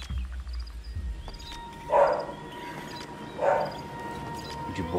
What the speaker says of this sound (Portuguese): Cachorro chato, mano.